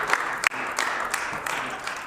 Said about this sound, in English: I see the health critic is also applauding because she approves of that move